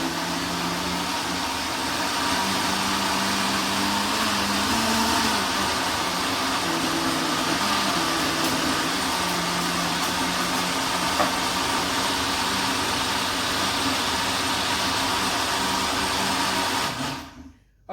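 A blender pulses a vegetable breakfast smoothie, its steady motor whir running loud and continuous for about seventeen seconds with slight shifts in pitch, then cutting off abruptly.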